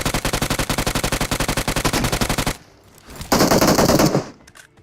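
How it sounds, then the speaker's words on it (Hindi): Rapid automatic gunfire in a video game, a long steady burst of loud close shots, a short pause, then a second harsh blast of fire fading out. "ये डायनासोर की हड्डी में गोलियां लग गई"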